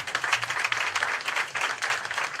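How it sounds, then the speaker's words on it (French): Audience at a workshop applauds for a woman, a brief burst of clapping from a modest crowd, fairly close and steady, with a low murmur of voices underneath. "Applaudissez pour ça"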